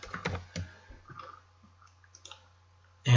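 Computer mouse clicks while working on a SolidWorks drawing file, several sharp, close clicks spaced through a quiet room, with faint keyboard-like taps and a low steady hum underneath.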